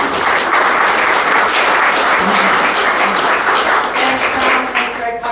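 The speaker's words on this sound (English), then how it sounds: "So please, an applause for Anthi." Audience at a security conference talk applauds steadily and loudly for the next speaker, a dense sustained wash of many hands clapping that holds for several seconds before tapering slightly at the end.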